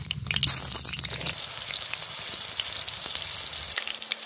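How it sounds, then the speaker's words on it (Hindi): Potatoes for dhaba-style dum aloo fry in hot oil in a kadhai, giving a loud, steady sizzle and crackle that holds throughout with no pauses and no talking. "अब हम तेल डालेंगे और सभी आलू को फ्राई करेंगे"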